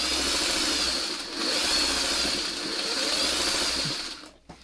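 A sewing machine whirs steadily for several seconds while it stitches together the pieces of a crocheted posy, then stops abruptly at the end.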